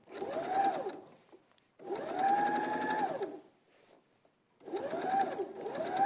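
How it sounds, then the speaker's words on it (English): A domestic sewing machine running a straight stitch down a thick zip in three steady bursts with brief pauses between, its motor whirring in a rising and falling hum, close and clear with no talk. "I do love the sound of a sewing machine"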